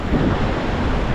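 Storm-driven ocean surf churns with steady wind buffeting the microphone, a dense continuous roar of breaking waves near the shore without any voices.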